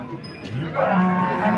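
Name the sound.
cows at a cattle market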